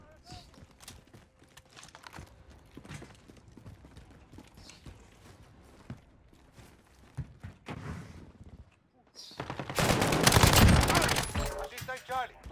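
Rapid automatic gunfire erupts in a Call of Duty Modern Warfare 2019 multiplayer match, scattered shots and mechanical clicks under shouted in-game callouts, then a dense loud burst of firing near the end.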